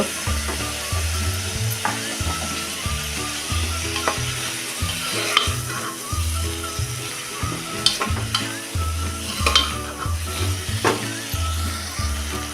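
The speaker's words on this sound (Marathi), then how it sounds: "प्रत्येक पदार्थ टाकल्यानंतर आपण हे दोन दोन मिनटं असं छान परतून घ्यायचं आहे" A spoon scrapes and stirs steadily in a hot pan while ginger-garlic paste sizzles and fries underneath, with repeated clinks against the metal.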